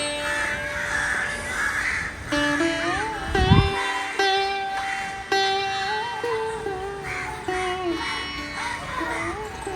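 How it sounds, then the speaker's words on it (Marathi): Crows caw repeatedly near a holiday stay in Alibaug on a morning, their harsh calls overlapping in an irregular chorus that is loud and fairly close, with a voice briefly audible. "कावळे बघा किती तिकडे."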